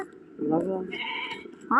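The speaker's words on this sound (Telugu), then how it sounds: "అదిగో అది మా గొర్రె అరుతుంది" A village sheep bleats nearby, a wavering call followed by a second higher cry, heard at moderate volume against a quiet outdoor background with a voice at the end.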